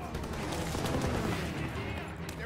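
A half-track-mounted machine gun fires in a World War II first-person shooter, a dense, continuous rattle of rapid shots mixed with other battlefield gunfire, fairly quiet and steady throughout.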